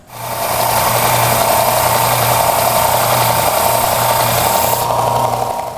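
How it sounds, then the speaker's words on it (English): Bench sander grinding down a wooden transom knee for a Whitehall wherry rowboat, a loud steady motor whine with a constant abrasive hiss that runs throughout, then eases near the end. "let's take a walk over to the bench sander and see if we can't grind that down"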